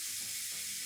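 Half slices of bacon cooking inside a hot waffle maker, giving a loud, continuous, close sizzle with a slight swell partway through and no voices.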